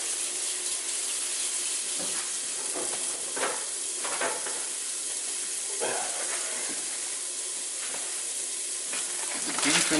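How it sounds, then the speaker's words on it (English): Kitchen sink tap running steadily as hands are washed beneath it, a broad close hiss with brief splashes and rubbing bursts, no talk. "I'm gonna wash my hands"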